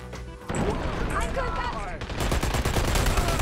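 Gunfire in a multiplayer shooter video game, a burst of sharp, loud shots and crashing game effects packed into a few seconds, close and dense.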